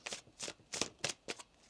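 Tarot cards shuffled by hand in a series of soft, rapid riffling bursts, five or six quick rustles in a row, close and fairly quiet with no talking.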